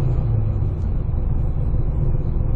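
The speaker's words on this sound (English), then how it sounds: "So I'm going to rev it up and let it go." A car engine on Holley EFI holding a steady high idle around 1200 RPM, a loud, even, continuous low rumble with no change in pitch, close up and with no talking.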